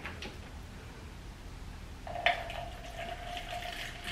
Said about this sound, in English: let me pour your drink because you know you're about to get it wrong